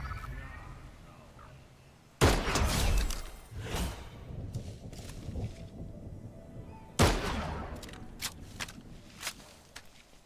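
Gunfire from a shooter video game: two loud, sharp blasts with rumbling tails about five seconds apart, scattered with quicker, fainter cracks in between and after, over a quiet background.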